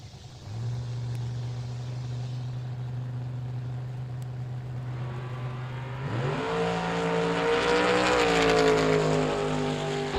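A Chevrolet Camaro at a drag strip idles with a steady rumble, then launches and climbs in a rising, increasingly loud roar as it runs down the strip, heard from trackside with no talk.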